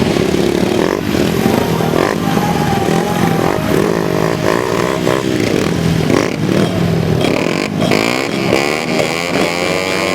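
250cc grasstrack racing motorcycles thunder through a qualifying race rerun at Collier Street, engines loud and continuous with revving pitch sweeps as bikes pass close by.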